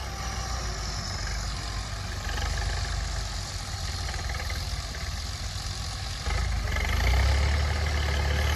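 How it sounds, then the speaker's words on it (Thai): A New Holland 6640 tractor's four-cylinder engine runs steadily at a low, smooth rumble, fairly quiet, swelling slightly louder near the end. "เสียงนิ่มมากเลยฮะเครื่องยนต์สีสูบ"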